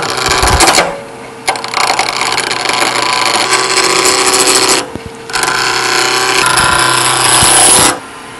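A wooden sphere spins on a lathe at about 1800 rpm while a tool rounds it, giving a steady close rasping, rubbing drone that drops out briefly twice before resuming.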